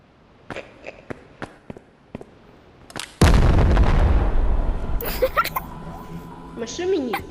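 A loud landmine blast in a video game bursts suddenly after a series of sharp gunshot pops and rolls on as a sustained rumble. Voices talk over the scene.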